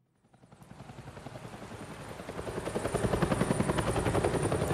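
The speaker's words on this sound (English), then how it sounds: "Hello, Chopper." A helicopter in the Batman: The Telltale Series video game approaches with rotor chop that builds steadily from quiet to loud, the rapid rhythmic thumping dominating with no talk over it.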